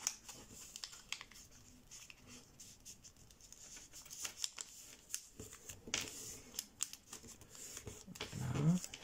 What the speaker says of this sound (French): Sur le volet de droite, on monte, on fait un pli plati.